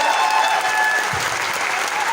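A crowd at an event claps loudly and steadily, a thick, continuous burst of applause that fills the whole moment with no break.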